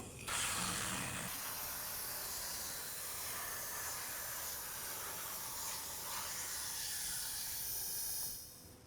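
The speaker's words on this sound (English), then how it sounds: "as you're pulling the wand out, you spray the wax." A steady, broad hiss of cavity wax sprayed from a wand inside a car's panel, lasting several seconds, close and continuous, tapering off at the end.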